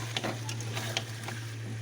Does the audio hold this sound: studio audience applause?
no